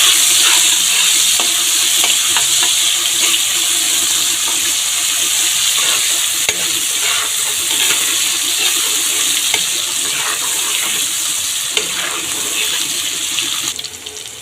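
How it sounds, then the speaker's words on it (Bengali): Chopped onions fry in hot oil with garam masala and cumin, giving a continuous close sizzle with occasional scraping and stirring clicks, and no one speaking. "এখন দিয়ে দিচ্ছি কুচানো পেঁয়াজ। এখন পেঁয়াজটা ভালো করে ভেজে নেব।"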